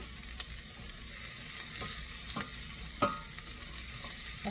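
Onions fry in a pan for a broccoli risotto while a spoon stirs them, giving soft intermittent scrapes and taps over a gentle, continuous sizzle close by.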